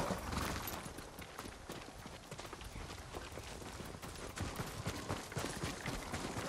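Horse hooves clip-clop steadily in Ghost of Tsushima, a fast, dense patter of hoofbeats that stays at the same level throughout, faint and with no voices.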